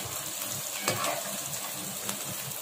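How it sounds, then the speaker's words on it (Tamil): Paneer fries in hot oil in a pan, giving a dense, continuous sizzle and crackle close up, with a couple of soft scraping stirs and no voices. "பாருங்க நம்மளோட பன்னீர் வந்து நல்லா ஃப்ரை ஆயிடுச்சு"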